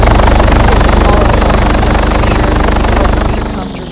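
A helicopter flies in the Arma 3 video game, its very loud, steady rotor chop thudding rapidly and evenly for several seconds before easing off toward the end.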